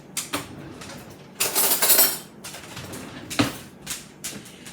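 Clattering, scraping kitchen sounds come in bursts alongside a dog's feet tapping on the floor, a busy domestic mix of clicks and clinks at close range with no talking.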